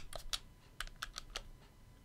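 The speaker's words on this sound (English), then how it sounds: "The buttons, D-pad, everything is quite clicky, as you can hear." Buttons and D-pad on a retro gaming console's controller are pressed in quick succession, producing about a dozen crisp, sharp plastic clicks, close and fairly quiet, in an uneven rhythm with no voice.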